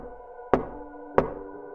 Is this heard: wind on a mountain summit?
no